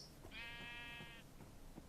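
A sheep in Minecraft gives a single clear bleat lasting about a second, moderately loud over faint background noise.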